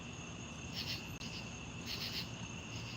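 A steady high-pitched insect drone with two brief pulsing swells, faint and continuous outdoors, with no voices.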